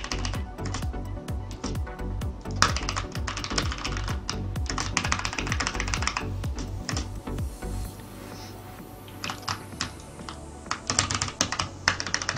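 Rapid, uneven keyboard typing clatters throughout during a gaming stream, with dense key clicks and bursts of fast keystrokes that briefly thin out before resuming.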